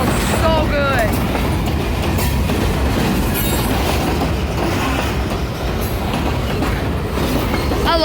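Kiamichi Railroad train cars roll past close by in Idabel, Oklahoma, making a loud, continuous rumble with clickety-clack from the wheels and a faint squeal, while someone speaks briefly near the start.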